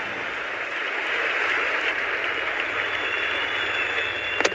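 A capacity crowd at a cricket match between West Indies and South Africa applauds a team total of 200 with steady, broad clapping heard at a distance, without talk.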